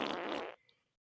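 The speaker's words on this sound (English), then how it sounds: "fart." A single short, loud, sputtering fart sound lasting about half a second, close and alone, dropping off abruptly into quiet.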